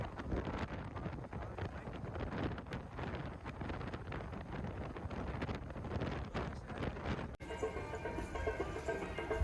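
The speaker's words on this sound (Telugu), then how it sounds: "ఇక్కడ గాలి కూడా చాలా బాగా వీస్తుంది అనమాట" Strong wind blowing along a tree-lined road with windmills near Kanyakumari, heard as a loud, constant rumbling buffet of gusts against the microphone with no talk, briefly cut and shifting in tone toward the end.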